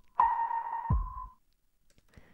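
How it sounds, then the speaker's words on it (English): A single sharp, tonal filtered snare drum hit with a hollow, boxy ring, followed by a low thump and a short decay, then quiet. "I like to call it a filtered snare."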